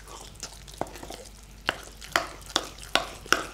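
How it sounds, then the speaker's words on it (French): A utensil stirs quinoa chocolate cake batter ingredients in a bowl, giving faint, irregular scraping taps that grow sharper and more regular toward the end, with no talking. "Et maintenant il suffit de mélanger tous ces ingrédients."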